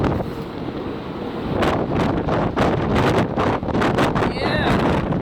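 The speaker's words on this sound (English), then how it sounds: "But it is brutally cold up here right now with the wind." Strong wind buffets the open deck of the Celebrity Century cruise ship in Alaska, a loud continuous roar that swells and gusts in repeated bursts. Close, heavy microphone buffeting dominates throughout.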